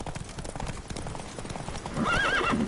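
Roach, a horse in The Witcher 3: Wild Hunt, gallops in a rapid, even drumming of hoofbeats, then gives a loud whinny near the end.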